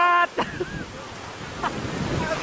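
Strong wind and heavy rain roar in a broad, steady wash during a final match outdoors, with a brief voice at the start.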